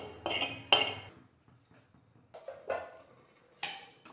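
Rice and mixed vegetables for a vegetable biryani being tipped into a metal pressure cooker, a few clinking knocks of utensil on pot with soft pouring between, close and fairly quiet.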